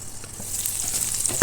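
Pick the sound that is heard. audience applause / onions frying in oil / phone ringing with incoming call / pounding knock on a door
onions frying in oil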